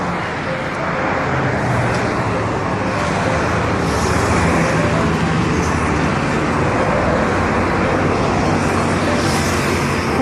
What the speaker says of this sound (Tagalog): Ayan, madami pong sasakyan